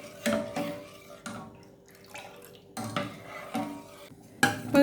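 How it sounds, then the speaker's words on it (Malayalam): Rice flour being stirred into milk in a pot, a spoon scraping and clinking against the metal in repeated strokes with brief pauses, close and clear with no talk. "അരിപ്പൊടി ചേർക്കുമ്പോൾ നമ്മളത് കട്ട പിടിക്കാതെ മിക്സ് ചെയ്ത് കൊടുക്കണം."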